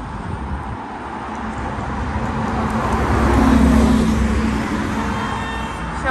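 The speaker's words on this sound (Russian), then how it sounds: "Еще, кажется, наш автобус едет." City bus in Korean street traffic approaching a bus stop, a broad engine and road rumble that swells as it draws near and peaks at mid-clip before easing slightly, with steady traffic noise throughout.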